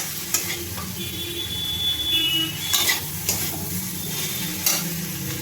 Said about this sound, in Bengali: এবার আমি চিচিঙ্গাটাকে ভালো করে ভেজে নেব মশলার সাথে।